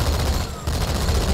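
Rapid gunfire in the Halo 2 video game, a dense, loud burst of automatic shots that continues almost without pause, dipping briefly midway.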